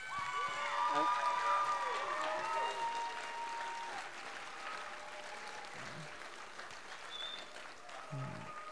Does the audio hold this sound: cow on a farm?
no